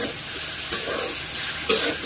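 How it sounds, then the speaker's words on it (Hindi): Potatoes fry with raw banana pieces in a pan, a moderate sizzle broken by two sharp spoon scrapes or clinks against the metal. "आलू को भी डाल दिए हैं दोस्तों"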